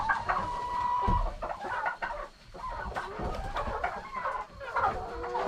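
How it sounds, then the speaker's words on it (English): Chickens cluck and murmur in a henhouse at evening roost as fifteen new birds join the flock, with overlapping calls from several hens near and far and a steady, busy hum of fowl throughout. "there's my chickens"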